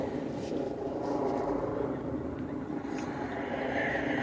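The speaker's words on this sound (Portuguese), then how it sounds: "a zoada dos helicópteros o tempo todo" A steady, dull rotor drone of helicopters hangs overhead in Berlin throughout, constant and moderately loud with faint distant sounds on top.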